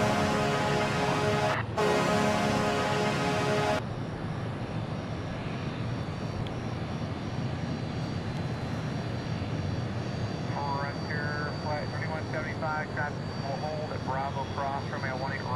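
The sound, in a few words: aircraft rolling down runway for takeoff at DFW airport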